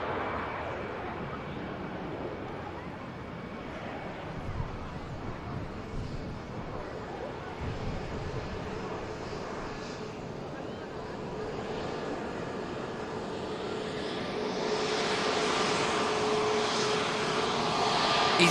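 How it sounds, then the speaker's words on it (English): An EasyJet jet airliner accelerating down runway 23 left at Manchester Airport, heard as a steady broad engine roar that builds louder toward the end, with faint wind noise and some talking over it. "EasyJet just racing down 2-3 left there."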